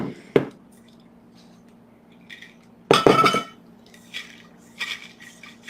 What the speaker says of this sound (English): after you soak any of the seeds, you just want to rinse them with the filtered water